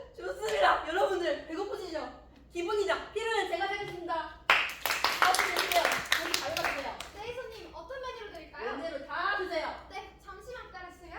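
Brief applause from an audience at a student freshman workshop performance breaks out in the middle, a burst of clapping lasting a couple of seconds between stretches of people talking on stage.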